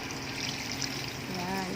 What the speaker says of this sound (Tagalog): Saka natin siya lalagyan ng tubig.